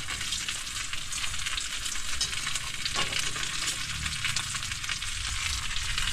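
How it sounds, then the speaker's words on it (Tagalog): Bulig fish and eggplant fry in hot oil with a steady, dense sizzle and occasional stirring, continuous and close throughout with no talking. "Pirito tayo ng bulig, talong, at saka buro"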